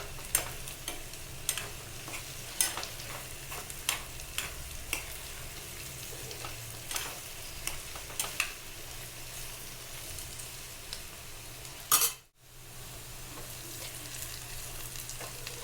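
Potato fry stirred in a pan, a steady sizzle with periodic scraping strokes of a spatula, close and continuous, with a brief gap near the end.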